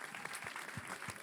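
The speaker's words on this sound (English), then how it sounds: "Just keep it clapping." Audience applause at a film panel event as a guest is welcomed, sustained clapping from a crowd with a few sharper individual claps standing out, moderately distant.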